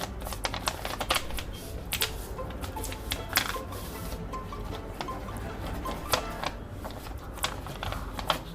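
Paper being folded and creased into an origami bat plane, with crisp crackling and rustling close by and frequent small sharp crinkles and snaps throughout, no voices.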